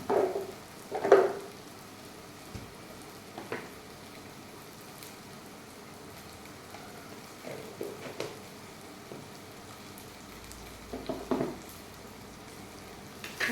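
Masala for curry leaves kuzhambu, with chili powder, pepper and turmeric, sautéing in a pan: a faint, steady low sizzle broken by a few sharper clinks and scrapes of stirring, with no voices.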